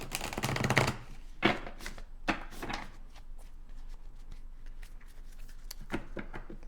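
A tarot deck, the Journey to Enlightenment deck, being shuffled up close: rapid riffling card flutters in several bursts, loudest at the start, then lighter intermittent flicks with no talking.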